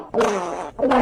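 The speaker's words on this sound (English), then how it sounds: "This is how the farting sound effect from Sweetie Cakes sounds like." A cartoonish farting sound effect from the game Sweetie Cakes: two loud, buzzy blurts close up, a long one followed by a shorter one after a brief gap, with no other sound around them.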